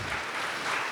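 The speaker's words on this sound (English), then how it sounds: "Keep clapping" Audience applause at a GUADEC 2024 lightning talks session, a brief burst of steady, dense crowd clapping heard close and evenly, without gaps.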